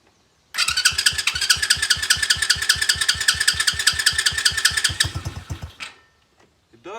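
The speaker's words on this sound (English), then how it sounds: "this is going to be the first startup" An X-pro Bolt 110cc motorcycle engine starts after a fresh oil change and settles into a loud, close, steady putter of rapid even pulses for about five seconds before dying away.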